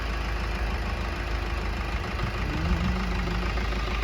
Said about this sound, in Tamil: அவளே காரை ஸ்டார்ட் பண்ணிட்டு